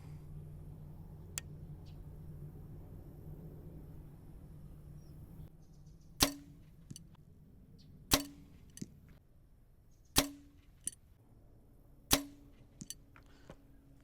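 A Carbon Express Maxima Photon crossbow fires bolts at a target 50 yards off, giving four sharp snapping shots spaced about two seconds apart, each followed by a faint distant thud of impact, over a quiet outdoor background.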